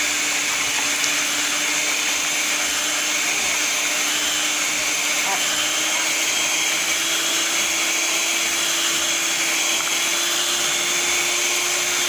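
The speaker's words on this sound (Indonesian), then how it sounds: "bahan-bahan ini kita mixer dengan kecepatan yang maksimal" An electric hand mixer runs at maximum speed beating sugar and batter, a loud, constant motor whir with a steady pitch throughout, close up and uninterrupted.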